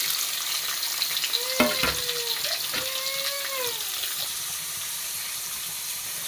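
Onion, garlic and coconut frying in oil in a pan, a soft steady sizzle with a few clinks and scrapes of a spoon near the start, fairly faint.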